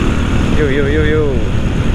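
A motorcycle's engine while riding on a touring trip near Serpong, a steady close rumble with wind noise, and a brief wavering voice sound rising over it midway.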